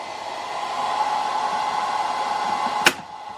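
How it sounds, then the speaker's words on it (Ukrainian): A hair dryer powered through an EcoFlow charging station wired to a home electrical panel runs steadily with a constant whooshing hum, close by, interrupted near the end by a brief sharp click. "Все працює. Фен не зупиняється."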